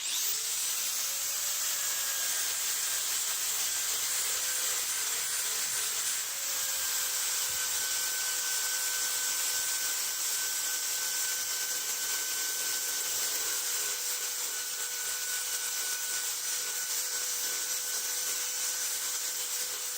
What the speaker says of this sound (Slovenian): Jaz za brušenje s temi nastavki s peno uporabljam makit in kotni vrtalnik